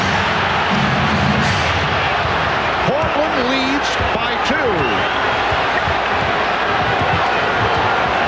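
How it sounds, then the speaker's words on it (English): Arena crowd at the 1992 NBA Finals, Bulls versus Trail Blazers in overtime, a dense continuous roar of spectators with shouts and a whistle, under a commentator's voice. "Crowd looking for a traveling violation."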